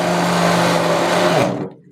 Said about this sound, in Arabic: انا هشغل الخلاط لان صوته جامد